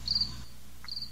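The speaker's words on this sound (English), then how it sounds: "I heard those crickets." Crickets chirp in two short high-pitched bursts, faint and thin, separated by a brief pause in an otherwise quiet room.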